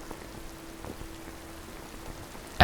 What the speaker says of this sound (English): listening to the pelting of the rain